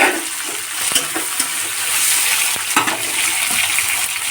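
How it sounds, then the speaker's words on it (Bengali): Onion and tomato fry in mustard oil with black cumin seeds, a dense close sizzle punctuated by several sharp clicks and scrapes of a spatula against the pan, with no talking. "পেঁয়াজ টমেটো ভালো করে লাল লাল করে আমি ভেজে নিয়েছি"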